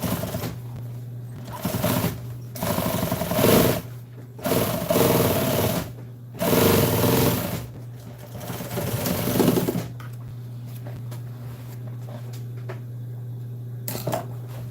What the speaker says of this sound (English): all I'm gonna do is put a top stitch on it